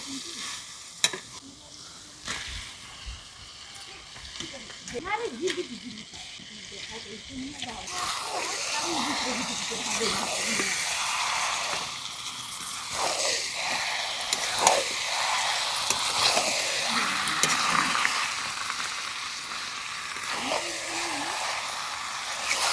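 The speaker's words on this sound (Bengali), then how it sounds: "এবার আমি চিকেনগুলো দিয়ে দেব।" Chicken pieces frying with spices in a pan for chicken biryani, with a steady sizzle and stirring scrapes that run throughout and grow denser as the meat cooks. A voice speaks over the cooking noise.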